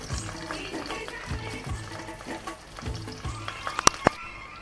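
Cumin seeds sizzling in hot oil for a tempering, a steady frying crackle broken by repeated stirring scrapes, ending in a few sharp metallic clinks of a utensil against the pan.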